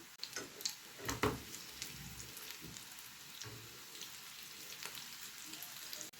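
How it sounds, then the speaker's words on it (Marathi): Chicken shami kebabs shallow frying in oil, a soft steady crackle and sizzle with a few louder pops near the start, faint and continuous throughout. "दोन्ही साईडने छान असे शॅलो फ्राय झालेले आहेत"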